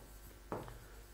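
Marker writing on a board during an engineering lecture, a single short faint scratch in a quiet room with steady background noise.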